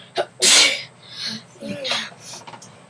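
A boy's loud close sneeze bursts out, followed by breathy sounds and soft voices speaking nearby.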